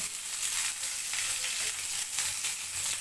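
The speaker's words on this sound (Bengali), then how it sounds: "এটাকে সামান্য ভেজে নিব।" Raisins, cashews and pistachios frying in hot ghee in a pan, a soft steady sizzle with faint crackles and occasional stirring scrapes, close and quiet.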